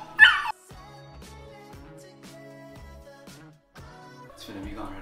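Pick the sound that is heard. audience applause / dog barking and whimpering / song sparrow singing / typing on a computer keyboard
dog barking and whimpering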